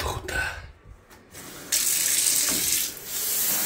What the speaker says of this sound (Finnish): Annetaan tolle vähän suihkua,